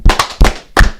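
Several sharp, loud hand claps ring out close by in quick uneven succession, each a crisp smack with a short room decay.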